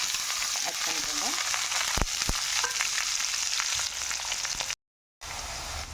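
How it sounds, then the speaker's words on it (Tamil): Onion and green chilli sizzle steadily in hot oil in a pan while cooking a beans and egg poriyal, with a few sharp clacks of stirring and a brief silent cut near the end. "வெங்காயம் நல்லா வதங்கிடுச்சு."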